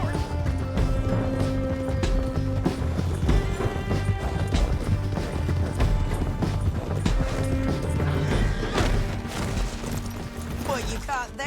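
A horse gallops in Red Dead Redemption 2, with steady hoof clatter and the odd crash running under dense game music and ambience for the whole stretch.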